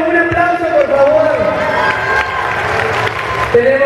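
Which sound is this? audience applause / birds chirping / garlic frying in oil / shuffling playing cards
audience applause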